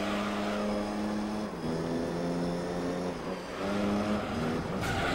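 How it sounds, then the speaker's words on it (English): A Toyota MR2 GTS races in Gran Turismo 3, its engine droning loudly and steadily, pitch dipping at gear changes and climbing again as it accelerates, with no talking over it. "MR2 GTS, pretty good car."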